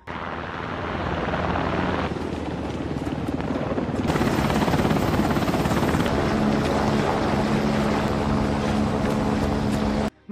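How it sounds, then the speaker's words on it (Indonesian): A helicopter's loud, continuous rotor and engine roar fills the scene close by, a dense steady wash that shifts in tone partway through and cuts off abruptly at the very end. "Metal berhasil dinaikkan ke dalam helikopter dengan pengawalan Clay."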